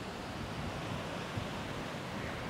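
Indian Ocean surf rolls onto a volcanic sand beach as a continuous, even roar of breaking waves, steady and moderately loud with no speech.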